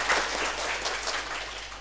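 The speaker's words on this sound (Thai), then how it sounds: "ขอปรบมือให้คุณรพนัน" An audience claps steadily throughout, a dense, even wash of applause with no voices over it.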